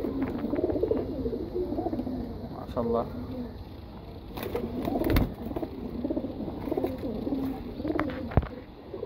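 Pigeons coo softly in a low, murmuring rhythm close by, with someone speaking briefly over them and light rustling in the background.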